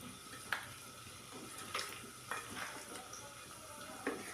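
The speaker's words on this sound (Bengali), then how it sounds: "এখন আমি মাংসটাকে একটু ভালো করে মেখে নেব।" Chicken meat is worked by hand with cumin powder, chili powder and salt. Faint, soft squelching is broken by a few brief scraping bursts, quiet and close, with no talking.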